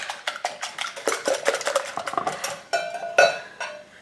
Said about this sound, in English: let's take a whisk, beat these together